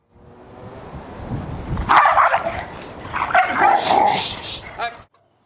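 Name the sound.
dogs barking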